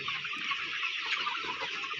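A flock of DP Cross chickens about fifty-three days old, kept at a poultry farm, makes a dense, continuous chorus of clucking and chirping at steady loudness with no speech.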